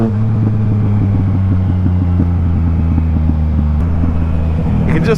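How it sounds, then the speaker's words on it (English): Exhaust from an idling vehicle burbles close to the microphone, a low steady drone broken by a loose run of small crackles and pops that thin out toward the end. "You can just hear it snapping and popping, man. The exhaust crackling away with the tiny fireworks made of love in there."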